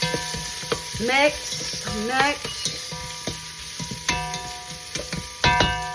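Garlic and ginger sautéing in a pan while cooking catfish, a steady close sizzle with clinks and scrapes of stirring, under a voice speaking briefly and some background tones.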